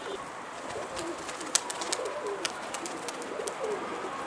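A pigeon cooing softly on a rooftop, low repeated coos set against a steady outdoor hiss with scattered faint clicks and chirps.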